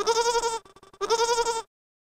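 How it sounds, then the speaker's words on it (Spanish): A goat bleats twice, two wavering nasal cries separated by a short pause, clear and close with silence after. "Cabra"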